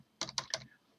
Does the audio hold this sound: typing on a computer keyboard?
yes